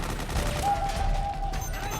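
A Metal Gear Solid 4 battlefield rattles with a short, muffled burst of rapid gunfire, moderately loud, over a low rumbling background.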